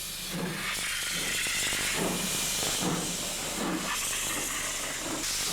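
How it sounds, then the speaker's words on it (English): Twin steam engines of a Rovos Rail train crossing South African savanna hiss continuously and loudly, with a rhythmic chuffing pulse running beneath the steady rush, no voices present. "Passing through the savanna of South Africa's northern province, the steam engines are imposing."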